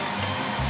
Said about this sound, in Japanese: ちょっと換気扇の音がうるさいかもしれないけど